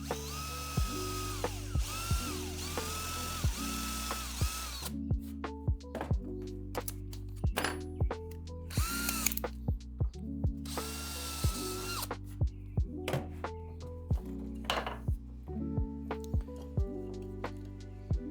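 Power drill boring into a walnut dresser, the motor whining in repeated short bursts with stops and restarts between them, close and clear with no talking.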